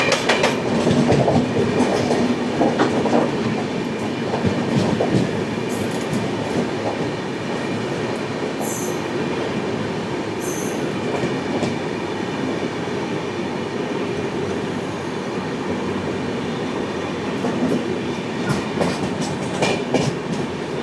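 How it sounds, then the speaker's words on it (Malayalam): The Karnataka Express passenger train rolls past on Indian rails, a loud, continuous rumble with rhythmic clickety-clack of wheels over joints and brief squeals of metal throughout. "കർണാടക എക്സ്പ്രസ്."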